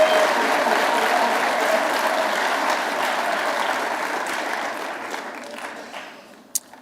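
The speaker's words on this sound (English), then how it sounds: "Another round of applause." Audience at an awards ceremony applauding, a thick sustained wash of clapping that slowly thins and fades toward the end, with no talk over it.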